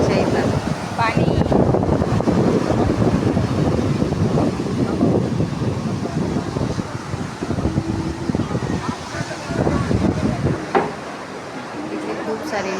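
Sea waves wash in at Golden Beach in Achara, a broad continuous roar heavily mixed with gusting wind on the microphone, loud and close, with a voice faintly present in places.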